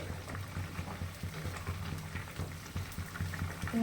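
Pui mitul greens simmer in a covered pot. Faint, soft bubbling and irregular small pops continue throughout, with no voices.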